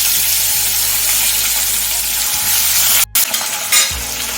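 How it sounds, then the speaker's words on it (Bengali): More pabda fish frying in hot oil, a close, steady loud sizzle with crackles, briefly cut out and then resuming with a sharp spitting surge. "এখন বাকি মাছটাও ভেজে নেব।"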